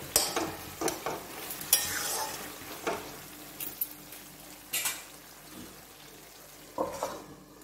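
Potato and raw fig curry stirred in a frying pan, repeated scraping strokes with soft sizzling between them, close and fairly quiet, no one speaking.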